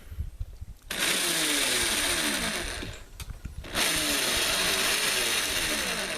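A power driver runs in two sustained, close, whirring bursts, with a short break between them, as it tightens a sheet metal screw with a washer into a solar panel frame.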